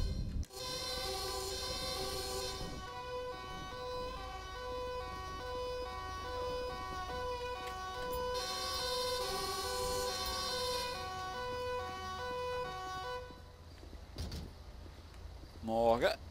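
An ambulance siren wails on and on in the video game GTA 5, a loud, steady, cycling tone over vehicle rumble, with someone talking over it.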